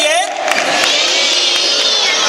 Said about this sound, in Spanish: Muy bien, un aplauso fuerte.